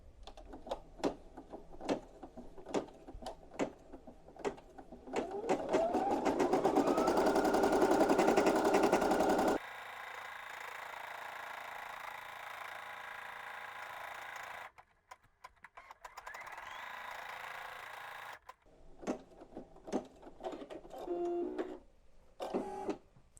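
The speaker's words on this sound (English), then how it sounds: "now I'm going to start my tack down stitch" An embroidery-capable sewing machine runs a tack-down stitch holding appliqué fabric onto a shirt in a hoop, its needle thumping in quick even bursts with a steady mechanical whir between pauses, close and clear with no talking.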